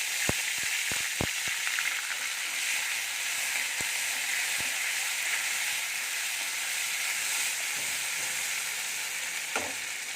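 Ground ginger paste sizzles in a pan of hot oil while cooking a vegetarian pointed-gourd and chickpea curry, a steady close frying hiss with a few sharp spatula scrapes and taps against the pan.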